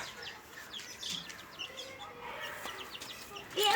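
Faint high peeping of chicks scattered through, with occasional soft clucks and background rustle, fairly quiet.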